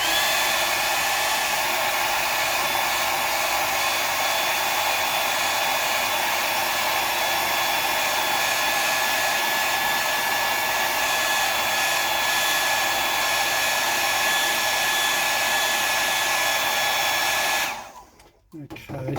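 Hair dryer drying a freshly painted square bill crankbait fishing lure, blowing as a loud, continuous close-up whoosh that holds steady for nearly twenty seconds before cutting off abruptly near the end, with no speech.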